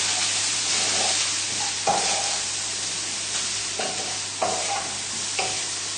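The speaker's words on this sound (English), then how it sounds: "we're just moving everything around the pan just so that make sure that nothing's sticking on the bottom" Bacon and mushrooms sizzle steadily in a hot pan on high heat for tagliatelle, with a spoon or spatula scraping and turning them in several distinct pushes.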